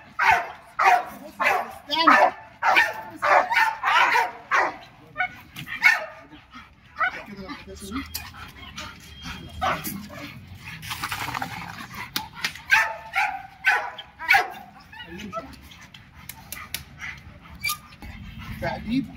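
Dogs bark loudly and close by in rapid repeated bursts, then pause with panting and whimpering before barking again, with talk mixed in at times.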